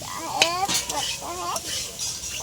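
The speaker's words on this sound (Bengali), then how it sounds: "আরও ভালো করে ভেজে নেব" Rice for a cauliflower pulao being fried and stirred in a pan, with utensil scrapes and clinks against the pan over a steady sizzle, while a voice talks throughout.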